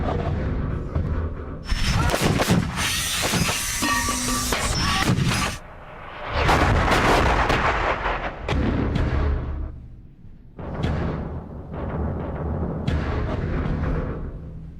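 Artillery rounds fired on a range at the British Royal School of Artillery, heard from a bunker: heavy booming blasts, each followed by a long rumbling roll, spaced irregularly and loud.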